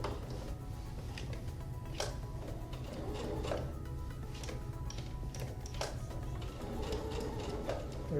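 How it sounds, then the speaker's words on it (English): Domestic sewing machine stitching suspender fabric with the presser foot repeatedly lifted and the work turned, a steady low motor hum with faint ticks and clicks throughout, fairly quiet and close. "See, I'm lifting the presser foot and kind of turning the work as I go."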